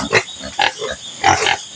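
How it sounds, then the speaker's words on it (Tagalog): Wild boars in a pen on a farm, fed on sweet potatoes and greens, grunt in a few short, rough bursts close by, with no talk over them. "Yan pala yung mga baboy damo niya."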